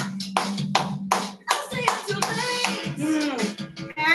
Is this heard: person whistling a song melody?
no